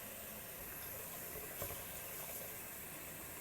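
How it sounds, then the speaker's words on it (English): Water pours into a pressure cooker holding chunks of potato and matki, making a faint, steady rushing trickle with a brief splashy swell near the middle. There is no talking. "Fill it with water."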